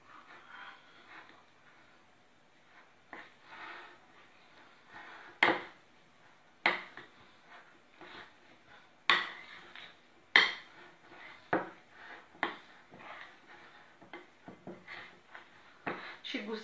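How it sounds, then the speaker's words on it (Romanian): Spoon or utensil clinking against a bowl while stirring together a dough of prunes and nuts for cookies, intermittent sharp taps at irregular intervals over soft scraping, close up, with a voice talking in between. "Și acum amestecăm bine toate ingredientele."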